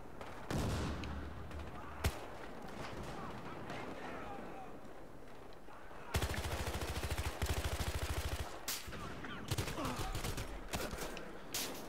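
Video game gunfire with pistols and grenades on a battlefield, sounding as sharp single shots followed by a long stretch of rapid repeated shots, fairly loud, with people talking over it.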